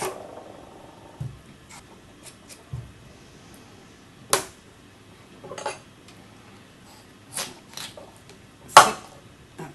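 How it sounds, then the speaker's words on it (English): Intermittent knife scrapes and sharp taps on a cutting board as a potato is peeled and chopped into small chunks, with scattered clicks and pauses between strokes, close by and without talking. "So Kyle, if you could peel that potato, and then I'd like you to chop it into small chunks"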